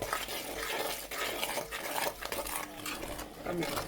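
Rapid scraping and clattering of a spoon against a pan as a dried bombil fish pickle is stirred hard, continuous and busy with faint background noise.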